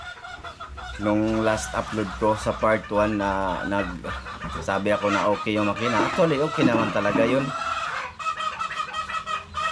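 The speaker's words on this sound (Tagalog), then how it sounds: "Sabaan yung ingay ng mga manok" Chickens clucking and squawking noisily close by, loud overlapping calls with someone talking over them throughout.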